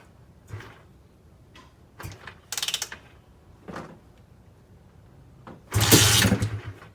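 A rebuilt Honda TRX250R ATV engine is kick-started while warm, without choke: several sharp mechanical kicks and clunks are spaced apart, ending in a louder, longer burst that may be a brief catch, with no talking.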